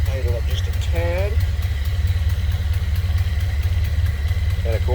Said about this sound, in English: Fires up pretty easy. Turn the idle up just a tad.